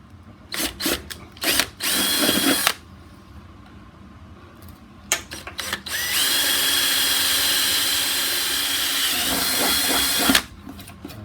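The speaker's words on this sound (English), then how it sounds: "a 64 mil bore hole drill bit which will drill through the main socket" A power drill fitted with a 64 mm hole-cutting bit bores through a plastic socket during a card reader install, first with a short burst, then a long, loud, steady grinding whine that stops abruptly.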